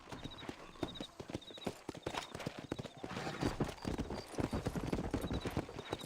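Hooves pound in a fast, steady clip-clop as a horse gallops in Red Dead Redemption on PC, close and prominent over light ambient sound with faint repeating chirps.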